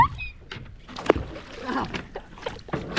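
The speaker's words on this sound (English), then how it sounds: "you literally splashed me with a whole cannon of water" Kayak paddles dip and splash in water on a family kayaking trip, giving scattered sloshing and splashing with a sharp splash near the middle, mixed with faint voices.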